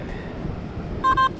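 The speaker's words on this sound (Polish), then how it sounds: "Pierwszy sygnał i wygląda na monetkę." Metal detector on an Italian beach gives a short electronic signal tone, two brief beeps close together over steady wind and surf noise.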